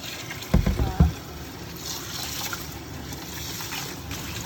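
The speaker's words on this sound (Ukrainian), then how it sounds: "Вот так рис треба помити." Indian rice is washed in water for plov, with a couple of quick, close splashes and sloshes followed by softer trickling and light water movement.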